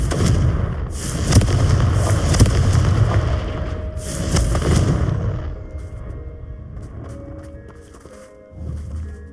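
Confringo fire spell in Hogwarts Legacy blasting with heavy booming roars in quick succession, a big burst then another, fading into a quieter crackling tail and a final low thump.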